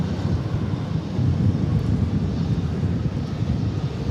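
An American Airlines airliner arriving at DFW airport from Louisville, its engines making a steady, fairly loud low roar that swells slightly as it passes.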